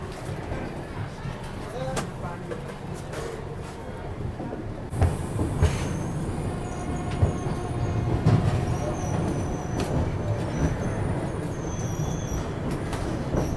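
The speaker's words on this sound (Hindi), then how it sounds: "चलो इगतपुरी से अपनी ट्रेन निकल रही है" Passenger train pulling out of Igatpuri station, with a steady rumble of wheels and carriages, occasional clanks and high metallic squeals, heard from on board with people talking nearby throughout.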